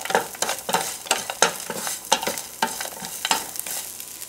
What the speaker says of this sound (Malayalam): 1/4 കപ്പ് ഉള്ളി ചെറുതായിട്ട് അരിഞ്ഞത്. എന്നിട്ട് ഇതൊന്ന് വഴറ്റിയെടുക്കുക.